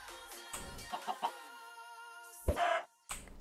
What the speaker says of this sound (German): Alter, diese Hühner hier überall, ne?